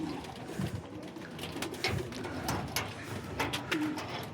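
Restless pet pigeons coo on a rooftop, a steady layered murmur of soft throaty calls with occasional louder notes over faint background noise.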